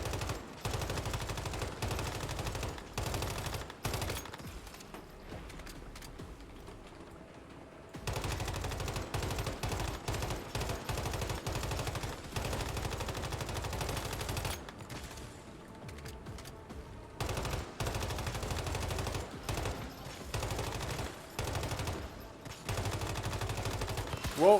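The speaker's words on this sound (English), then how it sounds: "I'm gonna waste so many bullets on him." Bursts of rapid automatic gunfire from a first-person shooter video game, loud and sustained in several long volleys separated by brief quieter gaps.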